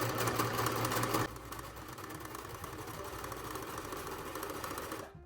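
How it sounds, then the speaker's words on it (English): A sewing machine runs a basting seam through fabric, whirring steadily and close up with a fast, even stitching rhythm, louder for the first second, then continuing slightly quieter before stopping. "So I've simply dropped my needle into the fabric and I'm just gonna sew."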